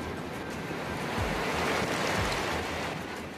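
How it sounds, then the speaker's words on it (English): Ocean waves whipped up by a series of winter storms roll and crash in a steady, loud surge, with wind buffeting the microphone throughout. "A series of winter storms have whipped up the ocean"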